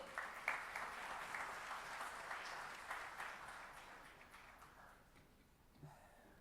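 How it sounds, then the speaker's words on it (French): Conference audience applause, a dense patter of many hands that carries on steadily, then thins out and fades toward the end. "Je vous propose de l'accueillir sous vos applaudissements, s'il vous plaît."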